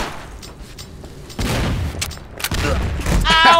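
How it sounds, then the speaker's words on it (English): A grenade blows up in the shooter game Double Action Boogaloo, a heavy close boom followed by another burst and a ringing tail, set among ambient game noise. "That was a perfect grenade on us then."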